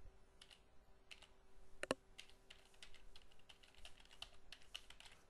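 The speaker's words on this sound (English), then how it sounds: "I'll go ahead here and type in the address." An FTP host address is keyed in on a computer keyboard, a quiet run of light, rapid key clicks at close range with one sharper tap partway through and no voice.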